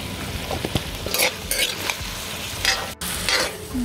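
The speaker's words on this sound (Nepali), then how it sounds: "यसलाई मजाले भुट्छु मैले यो मासुलाई।" Chicken meat sizzles and fries steadily in a hot pan, with occasional stirring scrapes and a brief clatter near the end.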